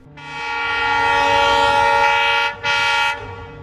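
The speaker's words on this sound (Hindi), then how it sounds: "और इसी बीच गाड़ी ने तेज सीटी दी।" A loud, sustained train whistle blows for about three seconds, breaking off briefly before a final short burst, with no other sounds.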